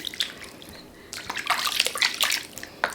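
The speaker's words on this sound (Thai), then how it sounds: "ล้างจูปี้ล้างจูปี้" Water sloshing and splashing as a newborn baby is bathed in a small tub, with soft trickles at first and then a busier stretch of close splashes and drips, with no speech.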